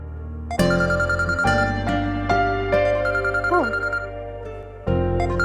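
A phone plays a melodic ringtone loudly in a domestic family scene, a steady repeating tune with sustained tones that runs almost continuously, briefly pausing before starting again.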